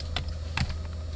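Quick keystrokes on a computer keyboard, a few light clicks in a brief burst, close and clear with steady background hum.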